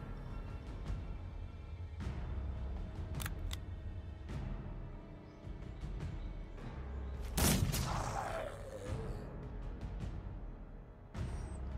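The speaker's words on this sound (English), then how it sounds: "pump 3 shots into him" Gunfire in the video game Mordheim: City of the Damned: several sharp, loud shots crack out one after another over a steady game soundtrack, with one heavier blast near the end of the series.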